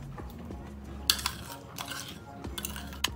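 A spoon spreads mustard over a pork roast in a dish, making soft scrapes and occasional light metallic clinks close by over a low steady background, with no talking.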